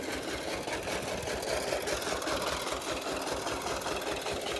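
A small diesel engine running a 4-inch water pump chugs steadily nearby, its rapid mechanical rhythm droning evenly throughout without pause.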